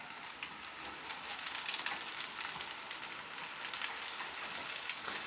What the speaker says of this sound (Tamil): இப்போ அந்த சைடும் நல்லா ஃப்ரை ஆகட்டும்.